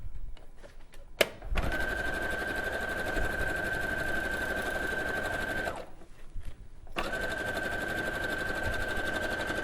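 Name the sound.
sewing machine stitching along raw edges of fabric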